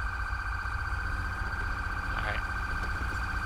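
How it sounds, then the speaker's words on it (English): An ambulance siren in GTA V with the LSPDFR police mod, a steady wailing tone held throughout under low background rumble, with a brief spoken word partway through. "That ambulance sure ain't in no hurry."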